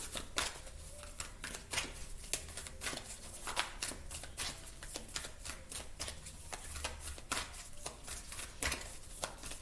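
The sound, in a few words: tarot cards being shuffled and drawn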